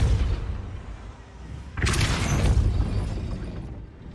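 A Depulso spell is cast in the video game Hogwarts Legacy, letting off a single deep, rumbling blast that swells suddenly midway and lingers over a steady low background hum.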